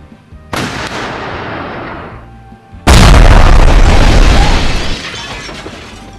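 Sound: shooting at a building in Sakura School Simulator video game

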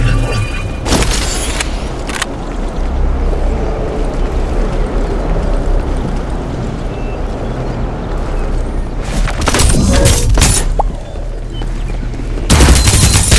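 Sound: gunfire in video game Farlight 84

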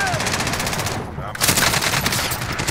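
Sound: gunfire in a video game

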